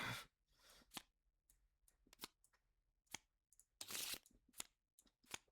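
A deck of cards for the Marvel Champions card game is shuffled by hand in quick, sharp riffling bursts and snaps, close and crisp, separated by short silences.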